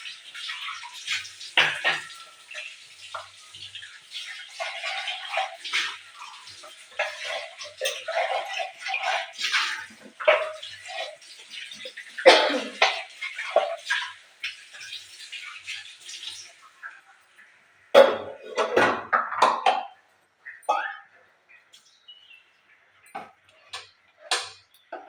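Steady splashing of running water over utensils being scrubbed and rinsed in a home kitchen, with intermittent clinks and taps of pots and steel vessels, fairly close, stopping briefly and resuming.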